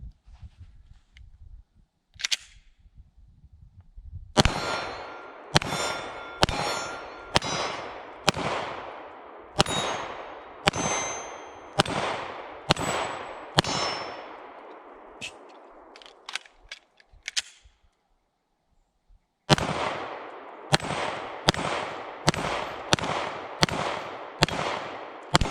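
Sig P320 X5 Legion 9mm pistol firing Remington 115 grain full metal jacket rounds at steel targets outdoors: a long string of sharp, loud shots with ringing metallic clangs, in a steady rhythm, a brief pause, then another rapid series.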